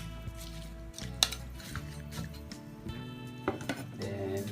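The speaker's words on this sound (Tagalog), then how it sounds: "Haluin lang natin ng konti." A spoon stirs native chicken tinola with chili leaves in a cooking pot, making faint, scattered clinks and scrapes against the metal under background music.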